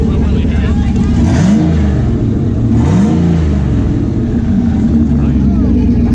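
A turbocharged car engine with a possible exhaust leak is revved twice in short blips, each rising and falling pitch sweep standing out over a loud, close idle, with people talking.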